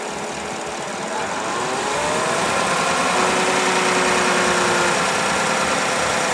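A car engine driving a 6L80 automatic transmission revs up from a steady idle to a louder, higher sustained roar and holds there, heard close with a constant mechanical hum.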